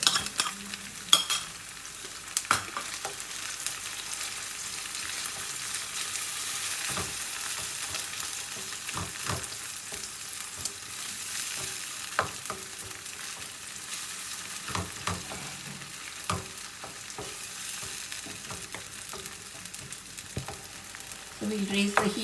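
Tomatoes fry and sizzle in a pan for Anglo-Indian chicken curry, with steady frying hiss broken by repeated scraping stirs of a spoon, close and clear, now and then joined by a few brief spoken words.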